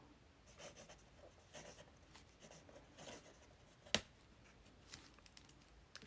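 Faint scratching of a pen on paper in short strokes with pauses between them, plus one sharp tap near the end; quiet and close.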